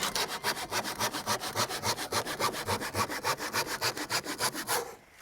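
A hand saw cuts through wood trim on a shed-style garbage hutch, about twenty-five steady back-and-forth strokes in a brisk, even rhythm, close and loud, stopping abruptly just before the end.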